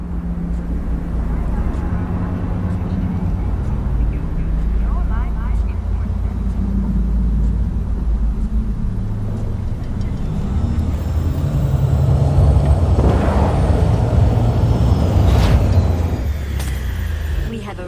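A flying vehicle in Cyberpunk 2077 descends and lands with a loud, continuous low engine roar and rumble, swelling toward the end, while voices talk over it.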